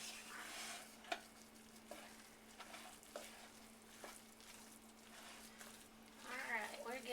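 A spoon works through a thick cornbread dressing mixture in a bowl, with soft scraping and wet stirring strokes plus a few clinks, all fairly quiet, and a steady low hum underneath.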